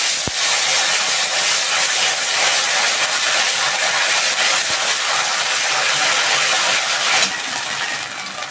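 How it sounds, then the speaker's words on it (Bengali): Ginger and cumin paste sizzles in hot oil while a paneer papad dish cooks, a loud, even, hissing fry that carries on steadily and eases slightly near the end. "এবার দিচ্ছি একটু আদা আর জিরে বাটা"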